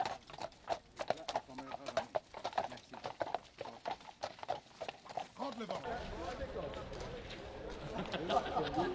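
Draft horses' hooves clip-clopping on a road during a draft horse event in Belgian Luxembourg, a brisk, irregular run of sharp close hoof strikes that thins after a few seconds, with speech and crowd chatter underneath.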